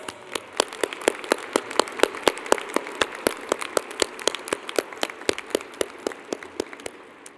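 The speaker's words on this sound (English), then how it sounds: "Let's give her a big round of applause" Applause from a graduation ceremony audience at a university commencement, a thin scattering of distinct hand claps in a steady, sparse rhythm that gradually fades toward the end, with no talking over it.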